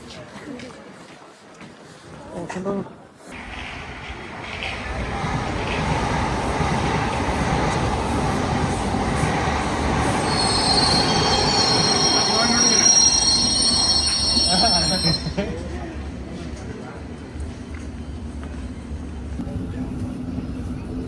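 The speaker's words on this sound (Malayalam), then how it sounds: "നമ്മളങ്ങനെ ട്രെയിൻ എടുത്തിട്ടുണ്ട്" A train rumbles steadily along the rails, its wheels squealing loudly for several seconds midway, while people talk nearby over the noise.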